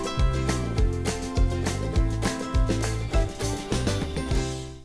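Non-diegetic music plays under an art card in a commercial, a full, bright track with a punchy repeating bass pulse and dense upper layers, loud and continuous, with no voices.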